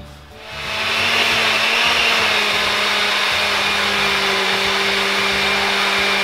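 A kitchen blender running steadily on flan ingredients with sugar, butter and vanilla, spinning up over the first second into a loud, even whirring hum that holds without pause.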